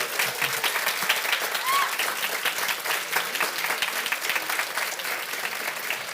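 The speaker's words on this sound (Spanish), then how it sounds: "Hoy otro aplauso muy fuerte" A crowd at an animation panel discussion applauds steadily, moderate-volume clapping from the audience that carries on evenly, with a faint voice briefly audible underneath.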